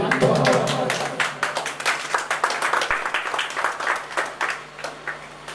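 Applause from the crowd at a mushaira poetry gathering, individual claps clearly separated in a brisk, uneven rhythm that fades slightly over time, with a low hum underneath.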